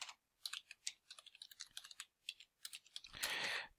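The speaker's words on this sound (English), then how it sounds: "So just type in your address then." Close, quick tapping of a computer keyboard as an address is entered, a brisk irregular run of light key clicks ending in a brief louder burst of rustle.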